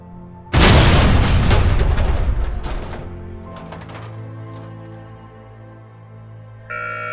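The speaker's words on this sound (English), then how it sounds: "The combination of the Jeep's impact explosion and the grenade explosion made a giant explosion wave" In a war audio drama, a Jeep smashes into a tree as a grenade detonates, a sudden loud boom with crackling debris that rumbles and slowly decays, followed by a low lingering tone.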